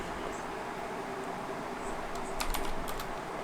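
Steady typing on a computer keyboard at a desk while product details are entered into a web form, soft continuous key clatter with a few sharper clicks near the end, no voices.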